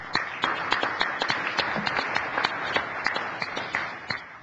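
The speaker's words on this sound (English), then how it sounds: "Let's give her a round of applause." Applause at a city council meeting, a steady patter of clapping from a small crowd that lasts several seconds and fades out at the end.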